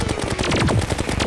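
Rapid, dense machine-gun fire from the Mega Shark gun in Terraria, a steady stream of loud shots with no pauses.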